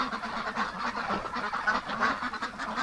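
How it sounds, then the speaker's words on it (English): A small flock of Muscovy ducks in a winter pen gives continuous breathy, honking calls, close and overlapping, rising and falling in a steady clamour with no talking. "Hello there, little Muscovies"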